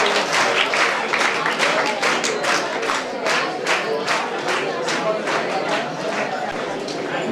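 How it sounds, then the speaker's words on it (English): A crowd claps steadily for NCC cadets at a training closing ceremony in Janakampet. The sustained, dense applause from many hands comes from close by, and a few shouts are mixed into the clapping. "Encourage them with your claps."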